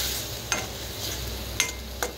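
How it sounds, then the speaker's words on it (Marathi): Grated coconut roasting in a pan with a little oil: a continuous dry hiss up close, punctuated by three sharp scrapes of a spoon stirring, with no voices. "हे असं खोबरं जरा भाजून घेतलंय"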